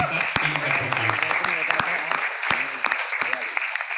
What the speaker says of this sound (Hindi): तो मैं हमारे सभी लीडर के लिए मैं चाहूंगा जबरदस्त ताली होना चाहिए